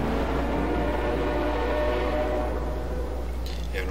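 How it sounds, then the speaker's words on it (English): Train locomotive starting up in the video game Half-Life 2: a steady, loud low rumble and mechanical drone, with a brief higher hiss near the end. "Now, as usual, before we can start the train up."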